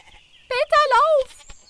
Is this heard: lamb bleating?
yes